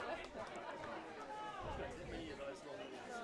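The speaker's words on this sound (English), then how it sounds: "you could hear the crowd were a bit surprised at that decision" Crowd at a women's premier grade field hockey match between Hale and Suburban Lions, a broad murmur of chatter rising in surprise at a referee's call, steady and fairly loud throughout with voices mixed in.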